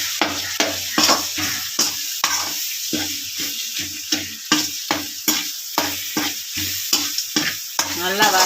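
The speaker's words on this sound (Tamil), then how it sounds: "நல்லா இப்போ கிண்டி விட்டுக்குருவோங்க. இது நல்லா கிண்டி வதங்கட்டும்." Chili, coriander and turmeric powders fry in a pan while a spoon stirs them in steady scraping strokes, with a constant close sizzle and rhythmic clatter throughout.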